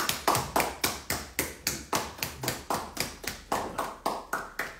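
Slow, rhythmic clapping on an Instagram live stream, about a dozen distinct claps in an even beat, close and crisp, with no talking over them.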